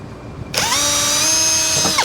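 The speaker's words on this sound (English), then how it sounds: "So we'll drill these holes." Power drill boring holes into a metal bracket while fitting a rear door cage in a Toyota Prado 150, starting abruptly with a loud, steady high-pitched whine close by, with no talk over it.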